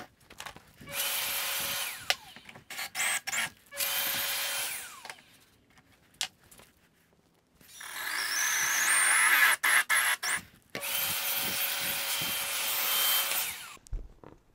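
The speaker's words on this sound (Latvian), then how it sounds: "divus urbumus, kas ir vajadzīgs priekš viras galvas, es ieurpšu no rokas" A hand drill with a 35 mm Forstner bit bores into wood in several long, steady bursts separated by brief pauses and clicks, loud and close, with a rising whine in one burst.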